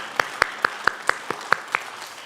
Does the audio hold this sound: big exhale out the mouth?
no